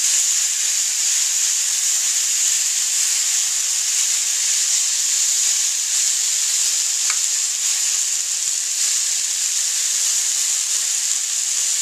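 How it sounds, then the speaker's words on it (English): Roast beef sizzles loudly and steadily in a frying pan, a constant bright hiss throughout with no talking. "I'm just going to cook it up in the frying pan."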